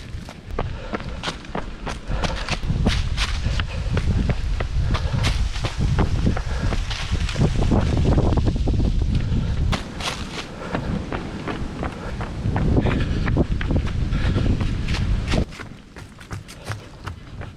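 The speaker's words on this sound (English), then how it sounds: "it is cold and windy" Strong, cold wind gusts buffet the microphone in loud rumbling waves, mixed with rhythmic footfalls of someone running outdoors, easing near the end.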